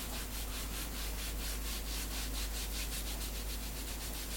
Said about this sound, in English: Just rubbing it over,